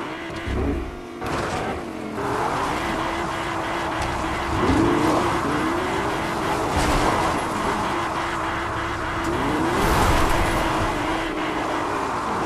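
A car engine in the video game Fortnite revs and shifts pitch as the vehicle drives, a continuous buzzing drone with rising and falling tones and a few sharp game effects.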